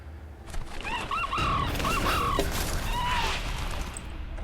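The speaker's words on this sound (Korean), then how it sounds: "부다닥거리는 닭 소리를 듣자마자 살금살금 옆집 닭장으로 향했죠" Chickens in a neighbour's coop in a small country village at night cluck and squawk in short, rising calls over a flustered rustle of flapping, fairly close and continuous.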